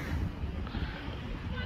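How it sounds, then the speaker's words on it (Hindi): Strong sea wind near the Burj Al Arab buffets the microphone with a constant low rumble over lapping water, while a voice speaks through the short gust. "हवा बहुत ज़्यादा चल रही है"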